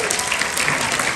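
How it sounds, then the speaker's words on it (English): Audience applause at a fan convention panel in Los Angeles, a dense, loud wash of clapping from a crowd, continuous and close throughout. "Big round of applause."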